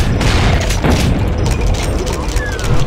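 Dense, booming rocket explosions and gunfire in Doom with the Brutal mod, loud and continuous with overlapping blasts, and voices talking underneath.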